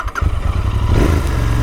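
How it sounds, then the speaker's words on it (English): A Royal Enfield Interceptor 650 motorcycle exhaust rumbles loudly and steadily nearby, a deep throbbing note that swells slightly as the engine picks up, with no voices. "Wow, the exhaust is actually very nice"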